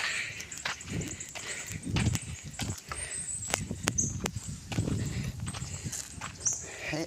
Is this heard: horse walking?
yes